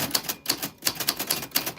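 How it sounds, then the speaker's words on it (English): Rapid clacking keystrokes of a vintage typewriter, a steady burst of sharp mechanical strikes heard up close with no voices over it. "that is your name on the vintage typewriter"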